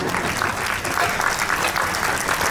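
Audience clapping during a talk on the benefits of clapping, a dense, even burst of many hands applauding steadily and close at moderate loudness for the whole moment.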